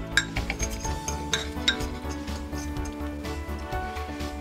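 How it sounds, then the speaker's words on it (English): A spoon mixes mug cake batter with an egg inside a mug, giving repeated close clinks and scrapes against the mug over steady background music. "Mix that really well."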